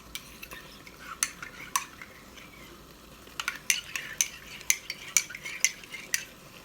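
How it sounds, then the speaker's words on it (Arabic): Spoon stirring cornstarch into room-temperature water in a glass, a series of light clinks and scrapes, sparse at first and then quicker, faint and close, with no talking. "بحط فيها معلقة نشا كبيرة، بقلبهم منيح مع بعض"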